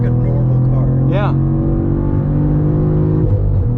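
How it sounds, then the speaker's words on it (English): Drivetrain and engine hum from a 2023 Cadillac CT4-V Blackwing while driving, a steady, moderately loud cabin drone with people talking over it. "I really think a lot of this is genuine drivetrain noise"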